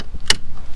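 On a 1988 Oldsmobile Cutlass Supreme, the floor-mounted hood release lever is pulled, giving one sharp, close mechanical pop or click midway through a brief stretch of low cabin rumble.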